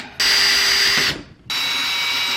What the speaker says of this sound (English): I think I'm gonna use a smaller drill bit